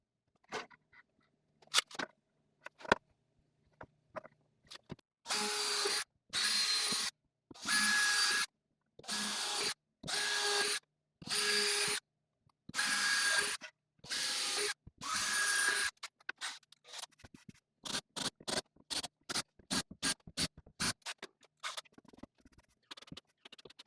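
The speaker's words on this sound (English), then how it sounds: "countersink them, and then use some screws to screw them fast" Power drill boring countersinks and driving screws into a wooden bandsaw table extension in a workshop, heard as a run of sustained whirring bursts followed by many short rapid buzzes, close and fairly quiet with no talk.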